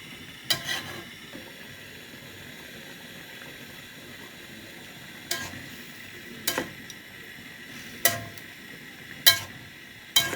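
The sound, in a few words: beef and liver being stirred and fried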